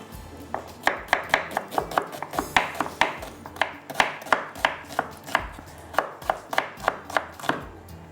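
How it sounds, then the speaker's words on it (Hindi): A knife slicing an onion into rings on a cutting board for Pakistani kofta aloo, heard as a steady run of crisp, close, evenly paced chops with no talking. "तो एक प्याज को हम स्लाइस में कटिंग करके इसमें डाल देते हैं"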